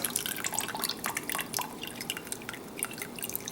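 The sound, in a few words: water dripping from a hop bag pulled out of hop tea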